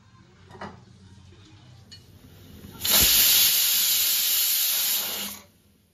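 Spray paint hisses from a can onto old items, one loud steady burst of about two and a half seconds after a few quiet clicks and handling knocks, then silence.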